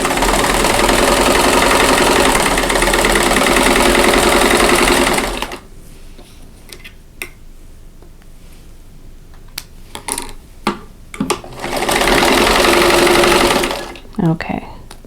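A sewing machine stitches a quarter-inch seam on a quilt block, running loud and fast for several seconds, then stopping for a quiet stretch of light handling noises and faint voice before a second steady burst of stitching.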